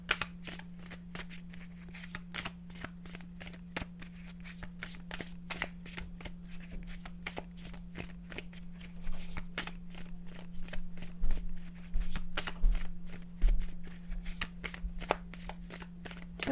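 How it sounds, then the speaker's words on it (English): Tarot cards shuffled in a steady rapid riffle of crisp, papery slaps over a constant low hum, growing a little louder toward the end. "Two more shuffles, please."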